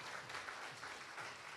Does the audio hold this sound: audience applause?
yes